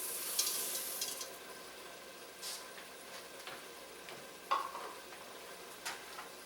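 Arborio rice stirred in a pan for risotto with asparagus and mushrooms, soft scraping and gentle sizzling close by, with a few sharper spoon scrapes against the pan and no talking.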